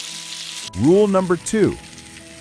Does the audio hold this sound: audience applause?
no